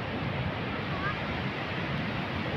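Steady rush of sea waves, a continuous broad wash of surf with wind, constant and moderately loud.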